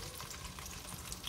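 Chopped onions and shallots fry in palm oil in a pot with a soft, even sizzle and faint crackle, quiet and steady, with no talking.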